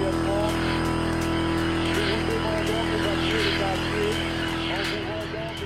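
A car carrying a roof-mounted megaphone drives through a village on Réunion, its steady engine hum continuous and fairly loud, with amplified announcement-like voice sounds riding over it throughout.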